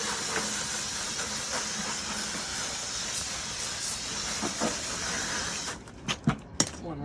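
Water sprays and rushes steadily while rinsing out a 5 gallon bucket used for hot drywall mud, a continuous broad hiss for several seconds that ends with a few splashy knocks.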